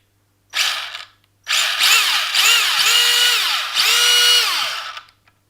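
Drivetrain of a freshly rebuilt Losi XXX-S RC car with serviced diffs, whining up and down in several short high-pitched bursts with pitch sweeps, close and loud against a quiet background.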